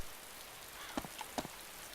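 Heavy rain in the DayZ video game falls as a soft, even hiss, with a few louder drips or taps standing out briefly midway.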